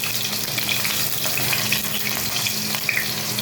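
Cut potatoes frying lightly in hot oil in a pan, a steady close hiss of sizzling with faint spattering pops, heard alone with no talk.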